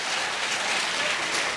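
Applause from a crowd at an intercommunity dialogue meeting in Neko, Lakota, loud, dense and steady clapping that sounds close, with no voices heard.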